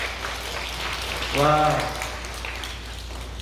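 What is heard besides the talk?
applause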